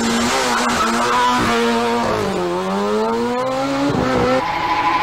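A Ford Puma Super 1600 rally car's engine screams against the rev limiter at a 2002 rally stage in the Mont-Blanc region, loud and close, with the pitch bouncing and climbing and some tyre noise.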